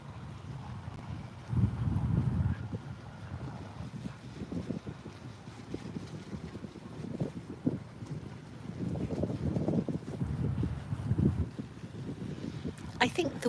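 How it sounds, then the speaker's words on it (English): Gusty wind buffets the microphone beside a walkable river bridge at a busy boating spot, a low rumbling roar that surges and eases throughout, with faint boat activity in the background. "I think the wind might have died down a bit"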